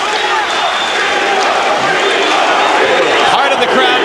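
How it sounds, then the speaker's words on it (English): A boxing arena crowd at a Diego "Chico" Corrales fight, a loud, dense roar of chanting voices mixed with booing, continuous and close, filling the whole space without a break. "Part of the crowd chanting Chico, Chico, Chico, and much of the rest of the crowd begins to boo"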